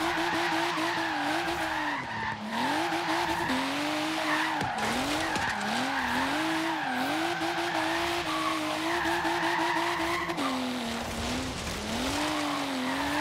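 A BMW M4 Horizon Edition drifts in Forza Horizon 3, with loud, continuous tire squeal wavering in pitch over a revving engine throughout, and brief breaks as the slide shifts.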